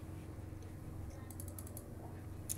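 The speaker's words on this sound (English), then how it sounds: "So I will type the amount on to buy." Keystrokes tapping out an amount on a keyboard come through as a few faint, quick clicks over a low steady room hum.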